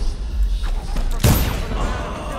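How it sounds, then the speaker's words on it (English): A grenade blows up in the stealth game Dishonored: one sudden, loud broadband blast cuts through ongoing gameplay noise and a low rumble. "How did that grenade explode so fast?!"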